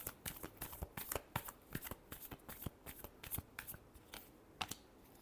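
A deck of tarot cards is shuffled close up, a rapid run of crisp riffling snaps and flutters in an uneven rhythm, quiet and alone.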